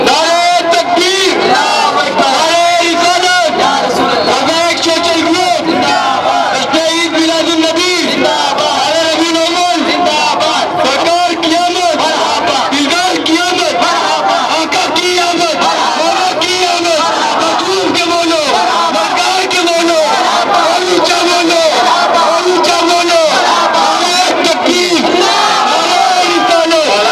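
A large crowd at an Eid Milad un Nabi gathering shouts a loud, sustained chant in answer to the Nara-e-Takbir call, with many voices roaring together continuously and densely throughout.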